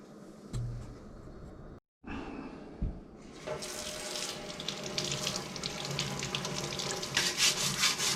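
Tap water runs into a sink as a rusty can is washed under it, a steady hiss that starts after a brief clunk and pause, then grows fuller with splashing and rubbing.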